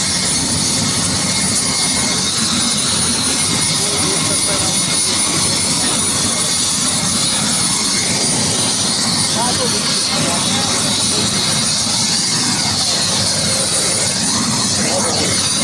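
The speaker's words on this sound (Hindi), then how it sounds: "हेलीकॉप्टर भी शुरू हो चुका है, रेडी हो चुका है, स्टार्ट हो चुका है।" A helicopter engine starting up runs as a loud, steady whine and rumble on the ground under clear weather, with people talking beneath the constant drone.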